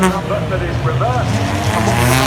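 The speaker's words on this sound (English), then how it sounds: "now the doctor's car going through as well" A car passes on the Silverstone race circuit during a Porsche Carrera Cup race weekend, its engine sweeping by loud and close with tyre noise, while a commentator talks over it.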